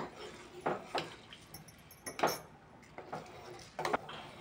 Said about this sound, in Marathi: अशी ढवळून घेते जरा.